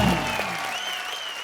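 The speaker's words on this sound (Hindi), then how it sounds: "जोरदार तालियां।" Enthusiastic studio audience applause on a Hindi comedy talk show, a dense burst of clapping that starts loud and tapers slightly over a second and a half, with a voice briefly over it.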